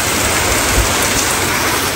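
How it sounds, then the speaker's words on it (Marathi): Heavy rain pours down hard, a dense, loud, continuous roar of drops hitting surfaces, with a brief low rumble in the middle and no voices. "काय पाऊस आहे."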